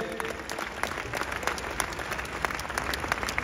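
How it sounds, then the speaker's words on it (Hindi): Sustained applause from an audience at a kavi sammelan poetry gathering during the Matsya Utsav festival in Alwar, a dense, steady patter of many hands clapping throughout with no speech. "तालियां हमारे कवियों के लिए मिले।"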